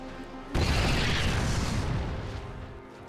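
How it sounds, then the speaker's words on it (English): A nuclear missile detonates in the real-time strategy game StarCraft 2: a sudden, loud boom hits after a brief quiet, then a heavy, rumbling roar slowly fades over the next few seconds. "Oh, nuclear missile on the way."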